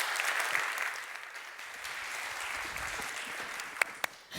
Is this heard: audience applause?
yes